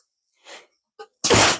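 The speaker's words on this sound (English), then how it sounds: "I had a little bit of sneezing fit" A single loud sneeze bursts out close up after a couple of short, quiet breaths leading into it.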